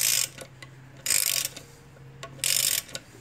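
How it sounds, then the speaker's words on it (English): Extended ratchet loosening a tight bolt during engine and transmission work on a 2013-2015 Chevrolet Malibu LT 2.5L, with three bursts of rapid ratchet clicking separated by pauses, close and clear. "So I'm using my extended ratchet."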